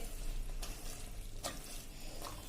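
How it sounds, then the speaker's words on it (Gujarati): Paneer gotala, a cheesy street-food scramble with onion and spices, is mashed with a masher in a sizzling pan, giving a steady frying hiss with a few soft scraping thuds and no voices. "હવે આપણે લારી જેવો ટેસ્ટ આપવા માટે મિત્રો એને આપણે ગોટાળાને આ રીતે મેસરથી મેશ કરી લેશું"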